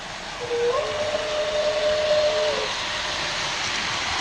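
An MTH model train horn, triggered from a Z-4000 remote under conventional control, sounds one steady two-second blast over a constant background whir.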